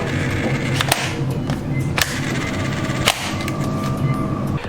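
Kriss Vector V2 gel blaster by Zhenduo firing, a few sharp snapping shots spaced about a second apart over a steady loud whirring motor hum, close up.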